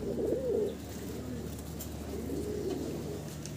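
Pigeons of a Pakistani-blood fancy breed coo in soft, throaty rolling calls, two clear bursts near the start and middle over a low steady background hum.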